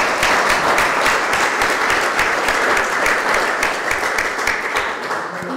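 Audience applause after a talk on the amnesty law and European legal proceedings, a dense, loud, continuous clapping from a sizable crowd that fades slightly near the end.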